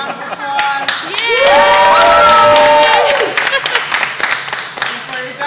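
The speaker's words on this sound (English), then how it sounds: "Let's give them a round of applause." Restaurant crowd at a birthday celebration claps and cheers, with whoops and singing-like voices over a steady burst of applause that swells then thins out into scattered voices.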